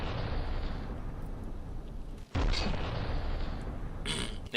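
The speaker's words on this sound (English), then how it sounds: "if I fire a shell" A turret shell fires in From The Depths, a loud booming blast that fills the low end, with a sudden sharp break midway followed by a renewed heavy burst and a brighter crack near the end.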